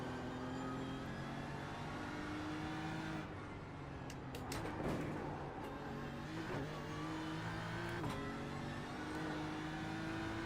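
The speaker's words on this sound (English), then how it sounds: "How do you describe the engine sound of the new GT4 when we were driving it?" A Porsche GT4 race car engine in the iRacing sim at the Nürburgring roars steadily, holding a high-pitched drone with brief revving shifts, loud and continuous throughout.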